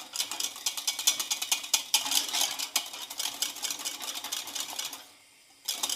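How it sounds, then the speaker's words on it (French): Whisk or spoon stirring thickening pastry cream against the bottom of a saucepan, a fast, steady rhythmic scraping and clicking heard up close, pausing briefly near the end before resuming. "Il faut bien mélanger dans le fond."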